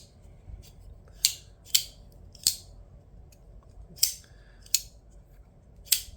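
Vosteed Raccoon folding knife flicked open and shut repeatedly, six or seven sharp metallic clicks of the blade snapping and locking, spaced irregularly about half a second to a second apart, close and alone over a quiet background.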